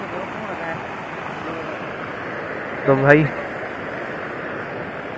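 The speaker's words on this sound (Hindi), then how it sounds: "बारिश बहुत ज़्यादा हो रही है" Heavy rain and a flooded mountain river make a constant broadband rushing roar, loud and unbroken, with a voice cutting in briefly midway.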